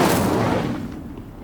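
An Incendio fire spell cast in Hogwarts Legacy bursts out as a loud, broad whooshing blast that swells at once and then decays over a second into a fading rumble.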